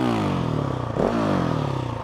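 A Husqvarna SMC R motorcycle with a brand-new Remus exhaust end can revs briefly up and down, a loud, close exhaust note rising in pitch then settling back to a rumbling idle.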